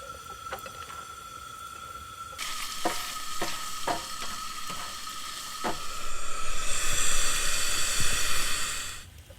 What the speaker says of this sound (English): this stir fry's done already. I like to cook mine just a little longer and brown everything a little bit